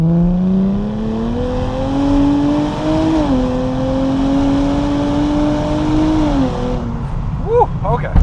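Nissan Z accelerating hard on a road, engine tone climbing steadily through gears with a brief dip at a shift, loud and close, fading near the end as a voice briefly speaks.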